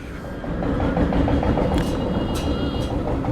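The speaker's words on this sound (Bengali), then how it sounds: "এটা হচ্ছে আমাদের পোড়াদহ রাজবাড়ি রুটের শাটল ট্রেন" A shuttle train on the Poradah–Rajbari route rolls past close by with a heavy, continuous rumble and a few brief high metallic squeals from the wheels.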